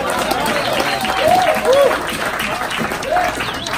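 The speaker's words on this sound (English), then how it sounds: "If we could all give Lila a round of applause for that" Audience applause at a live Hollywood TV pilot release event, a steady wash of clapping lasting the whole stretch, with voices and a few whoops or cheers rising above it.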